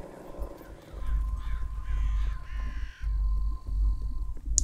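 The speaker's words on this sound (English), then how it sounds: "Bloodthirsty crows" Crows in the video game Fable III, a run of rough caws over a low rumbling ambience and a faint steady tone, ending with a brief bright chime.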